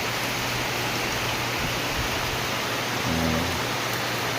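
Steady rain falls on banana plants outdoors, a dense even hiss with no voices.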